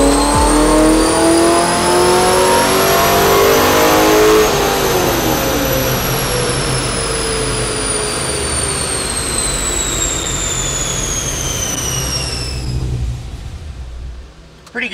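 A Reher Morrison LS7 V8 in a Corvette Z06 revs on a dyno, its engine note climbing in a loud, sustained pull before the pitch drops and winds down, with a brief clunk at the end.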